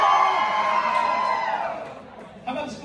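An audience cheers and whoops for a school of design and production at a gathering, a loud crowd roar that fades over about two seconds before a brief fresh burst of shouts.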